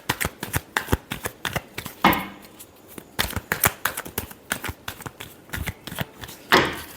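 Tarot cards are shuffled by hand in rapid, crisp riffling bursts, a steady rhythm of close papery flicks and slaps with a louder burst near the middle and end, no talking.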